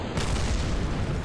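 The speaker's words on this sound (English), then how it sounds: "Oh, a couple little explosions" Small explosions in the video game Kerbal Space Program, heard as a loud, dense rumbling boom that swells abruptly and holds for about a second.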